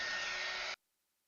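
A handheld paint dryer blows over wet Van Gogh watercolor paper with a steady, close airy whir that cuts off abruptly into silence.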